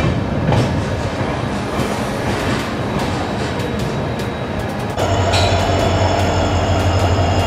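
A train pulls out of Ahmednagar station with steady rumbling and rhythmic clickety-clack of wheels over rail joints, loud and near, the tone shifting midway as it gathers pace; no talking.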